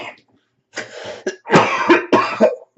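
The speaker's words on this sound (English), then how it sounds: "Oh, such a bad time for a cough" Several harsh coughs from a man with nasal congestion, in close, loud bursts separated by short pauses after a brief quiet start.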